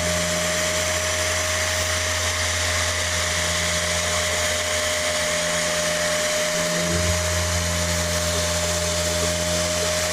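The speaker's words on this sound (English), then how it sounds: "you're not going to be able to hear me too much over the polisher because it's going to be loud" A machine polisher runs loudly and without a break on a car's paintwork, a steady whining hum with a brief dip in pitch partway through before it settles again.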